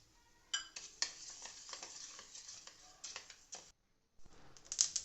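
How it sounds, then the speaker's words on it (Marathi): Flax seeds dry roasting in a pan while being stirred, giving a run of quiet scratchy, rattling scrapes in uneven bursts with a short pause near the end. "त्यानंतर जवस भाजून घ्यायचे दोन ते तीन मिनटं"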